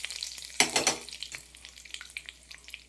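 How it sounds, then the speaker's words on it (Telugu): Curry leaves drop into hot oil with a loud, crackling burst of frying that quickly settles into a steady, close sizzle. "అవి కొంచెం వేగిన తర్వాత కరివేపాకు,"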